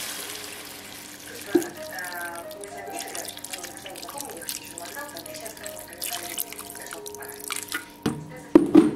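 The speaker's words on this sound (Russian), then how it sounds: "Добавляем водички." Water poured into a pot of stewing meat makes a steady trickle with dripping splashes. A few metallic clinks and knocks come near the end, and voices murmur faintly in the background.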